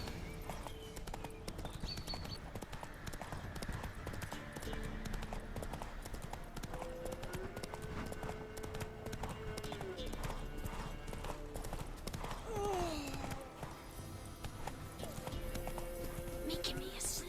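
A horse gallops in The Witcher 3 with steady, close clip-clop hoofbeats and a whinny, while someone talks over parts of it and background music plays.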